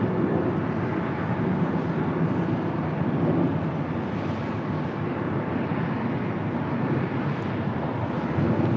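Fiji Airways Airbus A350-900 arriving at LAX, heard from a parking garage: a steady, broad jet rumble with a slight swell midway, mixed with wind buffeting the microphone, no talking.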